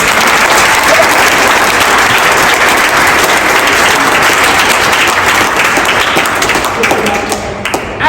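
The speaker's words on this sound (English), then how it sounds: "We want to give you a round of applause." Loud, dense applause from a large audience, continuous clapping that fills the whole stretch and tapers slightly near the end.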